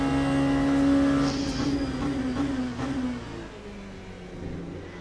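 Race car engines in Le Mans Ultimate, with hypercars and LMP2 prototypes on the Le Mans circuit, make a loud, steady, high-pitched drone that sags slightly in pitch and then fades under a lower rumble.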